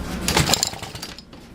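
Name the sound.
small engine trying to start on partial choke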